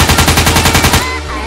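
A machine-gun sound effect on a pirate radio broadcast: a loud, rapid burst of about a dozen evenly spaced shots for a second, then it cuts off into a low rumble, with no voices over it.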